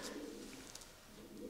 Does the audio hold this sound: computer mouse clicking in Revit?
no